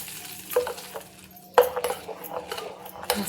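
A spoon stirs chutney in a pan just after a hot tempering goes in, with scraping and clinking against the metal over a soft sizzle, uneven strokes close by.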